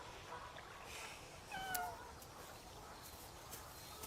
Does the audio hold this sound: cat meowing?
yes